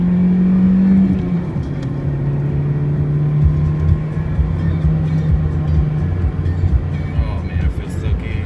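A Honda Fit engine on winding roads drones and revs as the driver downshifts, the pitch dropping then climbing in steady pulls, heard from inside the cabin at moderate loudness.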